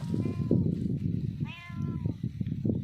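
A cat meows repeatedly in a farm field during sowing, two or three clear rising-falling calls heard close by over a steady low rumble of outdoor background noise.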